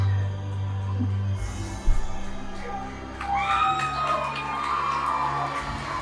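Arena crowd in Mangere, Auckland, at a New Japan Pro-Wrestling event, cheering and applauding with shouts and whistles, a broad sustained roar that swells midway and stays loud to the end.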